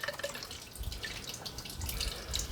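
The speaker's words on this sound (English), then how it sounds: "I'm going to dip this coolant tester into the actual coolant that's under the tractor here" Coolant from under a tractor dripping back out of a coolant tester, a few faint, irregular drips with soft liquid trickling, close and quiet.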